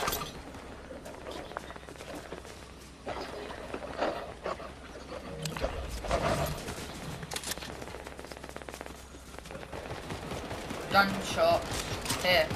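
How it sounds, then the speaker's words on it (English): Rapid bursts of gunfire in a Fortnite match crackle and pop in scattered volleys, mixed with game sounds and faint voices in the background. "Gunshot."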